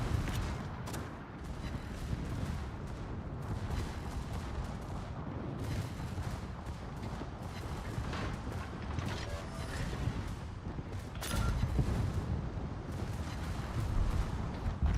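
Naval gunfire booms from a warship's turrets in World of Warships, with repeated heavy blasts and rumbling over a dense, noisy battle bed. The strongest shots land near the start and again late on.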